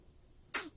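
A single short sneeze bursts out abruptly after a quiet stretch, close and fairly loud, then fades quickly.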